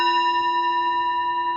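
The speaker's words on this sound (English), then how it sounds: "The sound of the temple bell booms for all to cease from conflict" A temple bell at a Buddhist public service rings out in a single sustained tone, its steady harmonic hum lingering evenly and fairly loud throughout with no voices present.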